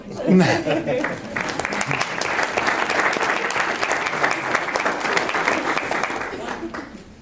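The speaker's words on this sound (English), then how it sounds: "We can applaud while they walk up here" Audience applause fills an elementary school awards ceremony, sustained steady clapping from a large crowd that starts almost at once and carries on loudly for several seconds with some voices mixed in.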